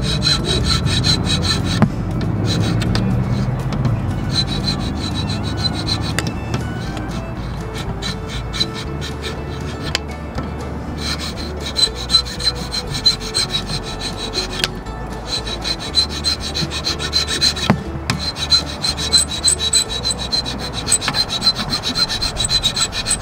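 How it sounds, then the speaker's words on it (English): A half-inch oak dowel held in a vise is filed across its end, giving a steady run of rasping strokes, loud and close, with no talk. "I'm gonna take and I'm gonna file the end down on here about halfway through."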